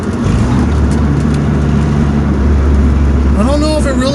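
A Ford Probe GT fitted with an HX35 turbo revs loudly and close by. It holds a steady, strong engine drone, then its pitch sweeps up and back down near the end.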